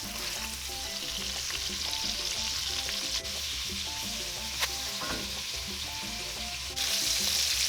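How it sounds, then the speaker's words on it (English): Cabbage stew ingredients, including little onions, crushed black pepper, koobi and momoni salted fish, sizzle and fry in a pot while being quickly stirred. A steady frying hiss carries faint scrapes under soft background music. "Quick stir."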